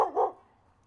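A dog at a dog park gives a single sharp, close bark made of two quick pulses, followed by a short quiet tail.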